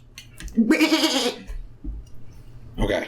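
A person imitates a bleating goat with two or three nasal, wavering bursts, loud and close, separated by short pauses.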